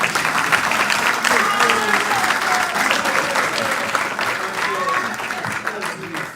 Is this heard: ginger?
no